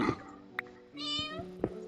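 A Minecraft cat meows twice up close, the second call longer and drawn out, with a brief click between.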